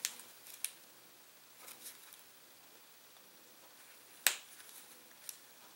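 Scissors cut through the red and black battery wires of a DJI Phantom 4 drone, giving a few faint, sharp snips spaced apart in a quiet room, with one crisper click standing out near the end.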